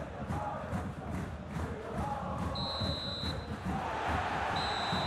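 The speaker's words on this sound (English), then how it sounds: "Crowd appreciates good football all round there." A football stadium crowd at a match makes a steady, distant roar of cheering and murmur, with occasional sharp tonal whistles cutting through the backdrop.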